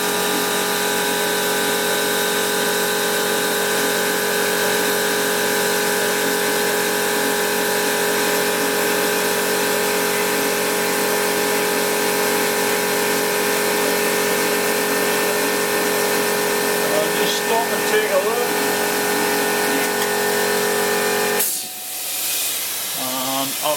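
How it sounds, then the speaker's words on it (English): A machine cutter runs slowly while cutting metal during restoration work on a BSA Fury, making a loud, steady, hissing mechanical drone that continues unbroken before cutting off abruptly near the end. "switch on the machine, and I've got it running slowly because I don't know how good this cutter is"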